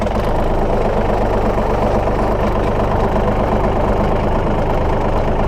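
A truck engine idles beside a travel trailer, a steady, loud, low rumble that holds unchanged throughout, with no talking over it.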